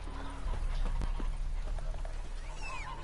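Horse hooves clip-clopping at a gallop in the video game The Witcher 3, a quick steady beat set against loud low droning ambience and faint game sounds.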